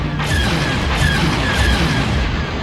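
A target ship blowing apart in Star Wars: TIE Fighter, a loud, sustained rumbling explosion with crackling debris filling the whole stretch, no talk over it.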